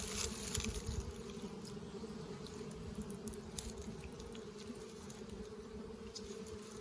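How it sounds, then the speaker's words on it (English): Dense, steady hum of honeybees clustered in a winter hive during an inspection, a close continuous buzz with slight fluctuations and no talking. "Bees look great."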